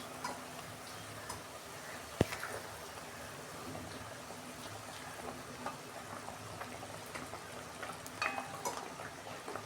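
Fish frying in mustard oil with spices, a faint crackling sizzle with scattered small pops and ticks, including one sharp click early on.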